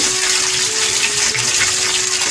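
Pieces of rui fish frying in a pan, a steady loud hiss of oil that stays even and close throughout with no talking.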